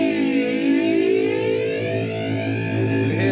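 Electric guitar played through a flanger effects pedal, a sustained chord with a sweeping, metallic whooshing modulation slowly rising and falling, close and steady throughout.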